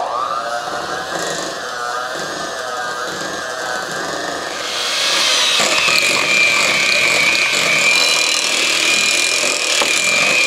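An electric whisk runs continuously, mixing chestnut cream with rum. Its pitch wavers at first and then rises to a higher, louder whine midway through, close by with no talking.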